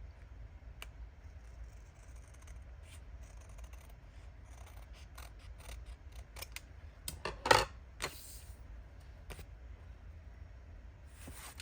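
Scissors snipping a glossy vintage photo tag during a craft session, a few quiet sparse cuts and small clicks over a low background hum, one louder snip near the end.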